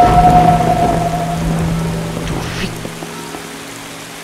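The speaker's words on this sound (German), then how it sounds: "Es regnet." Rain falls steadily with rumbling thunder in the horror video game Heritage, loud and close at first and then slowly easing, while a brief voice exclaims over it.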